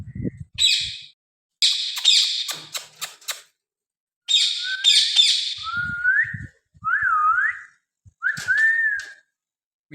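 A pet parrot gives a series of loud, close whistles and chirps in short bursts, some with rising and falling tones, with quiet gaps between them.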